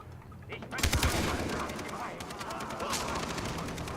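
Video game gunfire from Far Cry 3 co-op play: a loud burst of rapid shots and bangs, then continued scattered firing in the near field, with a voice talking over it.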